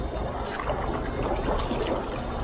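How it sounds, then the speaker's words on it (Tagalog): Strong river current at a road crossing on the Balanti-San Jose De Urquico river, a steady rushing, churning wash of water, loud and continuous with low rumble. "At yung current ng tubig medyo malakas."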